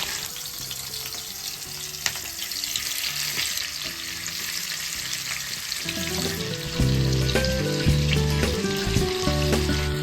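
Dried chillies, garlic and tomato frying hard in a pan for bharta, a loud close sizzle with stirring scrapes, while a low musical hum joins in partway through.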